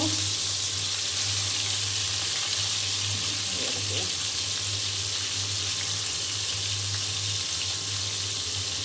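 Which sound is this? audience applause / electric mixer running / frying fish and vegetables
frying fish and vegetables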